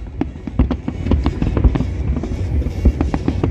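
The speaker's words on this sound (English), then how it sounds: "one of the best world-breaking fireworks" Fireworks burst in rapid succession at a New Year record-breaking display on Al Marjan Island, a steady run of booms and crackles, some close and loud, over a continuous rumble.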